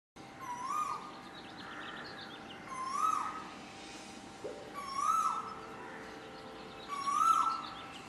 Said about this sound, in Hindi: ये सुबह सुबह कोयल की मधुर आवाज हमारे कानों में ठंडक पहुंचाती है